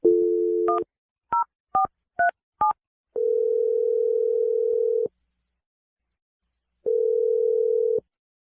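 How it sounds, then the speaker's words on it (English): A dial tone sounds briefly before five quick touch-tone key beeps are dialed on a telephone. Two long, steady ringback tones follow, separated by a pause, all clear and close with no talking. "I'm gonna dial the number right now."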